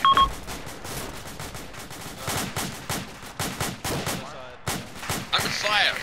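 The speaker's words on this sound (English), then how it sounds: "Enemy fire to the northwest." Rapid gunfire bursts from the video game United Operations, set at the Battle of Wanat, crack repeatedly in an irregular rhythm over the full stretch, mixed with radio-style chatter and a brief beep.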